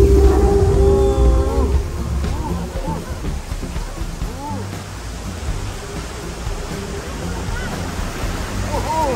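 Steady broadband rush of a waterfall at a Singapore theme park, loud and continuous throughout, with people talking over it.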